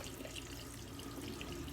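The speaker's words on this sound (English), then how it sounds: "Just some water in the hand. I just scoop up some water," Water trickles and splashes gently as it is scooped into a cupped hand for building shaving lather, a soft, close running-water sound with no talk.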